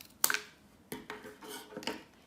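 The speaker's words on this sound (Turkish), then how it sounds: "Şimdi rulomuzu Kalın ya da ince kesmiyoruz. Orta şekilde kesiyoruz." A cardboard roll is sliced into medium-width pieces, giving a few separate rasping cuts and scrapes close by, spaced irregularly with quiet gaps between them and no voices.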